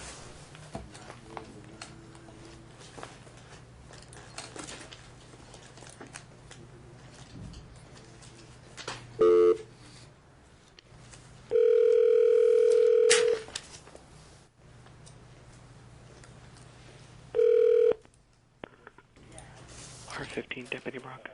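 A courtroom telephone call to a commissioner, with faint clicks and dial sounds under low background noise, then loud steady phone tones sounding in three bursts, the longest lasting over a second.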